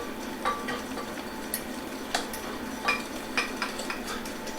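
A whisk clinks lightly against a bowl as milk is beaten into eggs for eggnog, with irregular soft taps over a steady low background hum.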